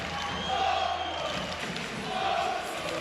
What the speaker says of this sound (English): The arena is full, the crowd are loud